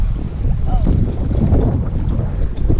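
Strong wind gusts across the microphone at an open-air bayfront park in Hamilton, Ontario, where sailboats are out, producing a steady, loud roar of buffeting wind noise throughout.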